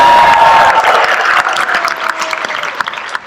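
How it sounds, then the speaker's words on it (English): A studio audience claps loudly to vote for a contestant on a comedy game show, steady dense clapping with a few cheers that thins toward the end. "Audience, by round of applause, it is now your time to vote."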